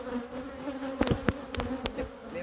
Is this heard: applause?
no